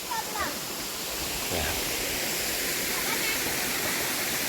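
A waterfall roars steadily in a broad, continuous wash of falling water, loud and close, with faint voices briefly audible beneath it.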